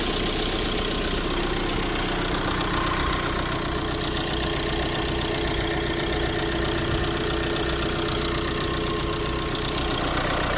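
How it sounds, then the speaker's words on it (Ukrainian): A 2017 Volkswagen Crafter van's engine idles under the open bonnet, a steady, close mechanical hum with a fine rhythmic clatter, unbroken and without speech. "Двигунчик працює ідеально,"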